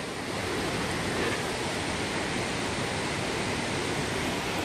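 A waterfall on the Coomera track at Binna Burra, a steady, loud rushing roar of falling water that stays constant throughout with no voices.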